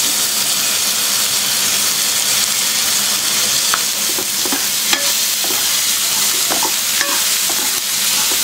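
Sliced okra and onion fry with salt in a pan, a steady close sizzle running throughout while a spoon scrapes and stirs in scattered clicks and knocks.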